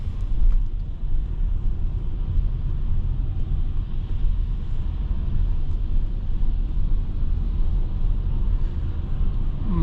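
Steady low road rumble inside a moving 2022 Toyota Sienna, a constant deep drone of tyres and engine heard from the cabin with no talking.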